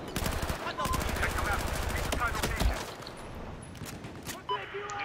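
Rapid automatic gunfire in a video game, dense bursts of shots for a few seconds that then drop away into quieter game sounds, with someone talking over it.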